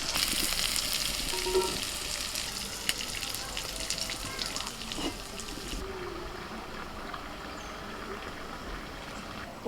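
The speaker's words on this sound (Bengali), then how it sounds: "ওই তেলেতে মানকচুগুলো ভেজে নিচ্ছি।" Mankochu (giant taro) pieces frying in mustard oil left in a wok after shrimp, a soft bubbling sizzle with scattered pops and faint stirring, quieter and fading somewhat toward the end.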